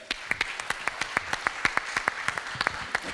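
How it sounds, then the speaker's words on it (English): Applause after a panel speaker at a news-industry discussion, heard as a regular series of sharp, distinct claps at a steady rhythm, sounding like only a few hands, fairly quiet and close. "A big round of applause, please, for Ben."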